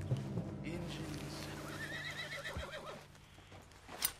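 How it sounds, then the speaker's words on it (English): A spooked horse in Red Dead Redemption 2 gives a loud, shrill neigh and whinny with a few hoof clops, while a voice talks softly underneath. "What's got this horse spooked,"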